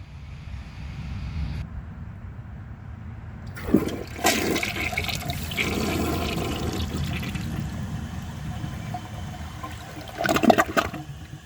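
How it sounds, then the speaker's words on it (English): A 2004 Gerber Aqua Saver 1.6-gallon toilet flushes with a sharp clunk of the handle, then a steady rushing swirl of water draining and refilling, ending in a brief louder gurgle near the end. "So let's give this a flush and see how it does on tests."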